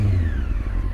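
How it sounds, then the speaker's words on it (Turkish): A Honda CBR 600 F motorcycle engine revving steadily through an aftermarket Yoshimura exhaust, a deep low rumble close by, with no talking. "Bu arada Yoshimura var üstünde, egzoz. Şöyle sesini de dinleteyim."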